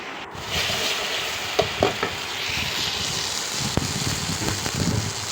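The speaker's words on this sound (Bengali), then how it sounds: "দেখেন মশলাটা মোটামুটি ভাজা হয়ে গিয়েছে আমার।" Spice paste frying in oil in a pan over a wood-fired clay stove, a steady close sizzle with occasional stirring scrapes and soft crackles throughout.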